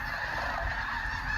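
A flock of geese honks at roost in water at Bosque del Apache National Wildlife Refuge, a dense overlapping chorus of calls, steady and moderately loud, with no talk.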